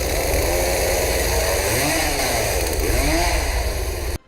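A chainsaw roars loud and close during a chase around a dining table, its engine revving up and down in steady swells before cutting off abruptly at the end.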